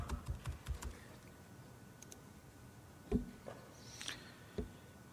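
Keys tap on a computer keyboard as a name and password go into a web form, short irregular bursts of clicks, close and faint, with no talking.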